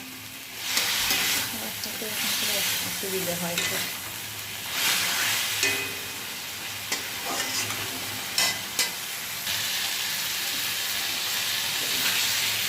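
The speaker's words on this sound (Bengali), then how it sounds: "চিকেনটাও দিয়ে দিলাম, ভালো করে কষিয়ে নেব" Chicken frying and being stirred in an iron wok (kadai), a steady close sizzle with repeated scraping stirs throughout, and a brief spoken remark in the middle.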